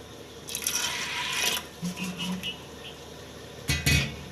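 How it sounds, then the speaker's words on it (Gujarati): Water poured into a pot of cut potatoes and cowpeas while cooking a curry, heard as a couple of short splashing, filling bursts close by with small clatter between. "અને હજી આપણે આમાં થોડુંક પાણી નાખીશું."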